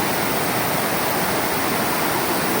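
Steady, loud roar of a waterfall pouring into a rocky basin shaped like a stone bowl, a continuous broadband rush with no voices over it.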